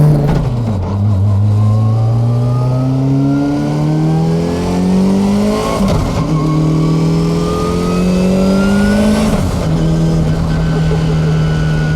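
A 1300 hp SR20 engine in a Nissan 240SX rips through loud, rising revving pulls on the street, climbing in pitch, dropping back and climbing again, with no talking.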